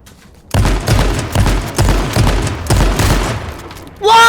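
Rapid bursts of gunfire from the survival shooter H1Z1, loud and close, several rounds in quick succession with heavy low thumps, ending in a sharp ringing tone.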